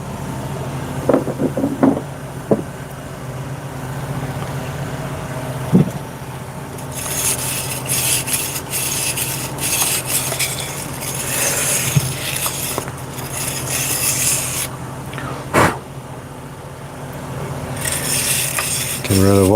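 Rust being scrubbed off metal: bursts of harsh, close rasping strokes, some quick and choppy and others drawn out, start after a quiet stretch of background sound and continue with brief pauses.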